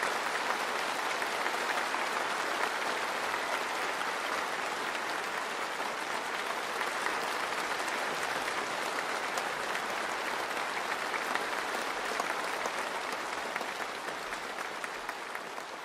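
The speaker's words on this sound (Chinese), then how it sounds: "现场爆发出长时间的热烈掌声" Long, warm applause fills a large hall at a formal state ceremony, a dense, even clapping from a big crowd that holds steady for many seconds before easing slightly at the end.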